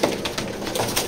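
Male pigeons scuffle in a loft, giving a few soft, throaty coos and brief flutters up close, with no one speaking.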